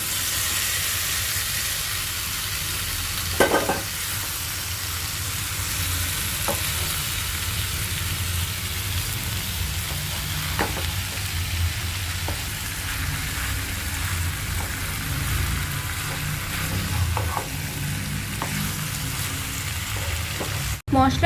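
Fried potato and taro pieces being stirred into a cooked spice masala for a taro curry, a steady crackling sizzle throughout with occasional clinks and scrapes of a spoon against the pan, and a brief louder knock near the end.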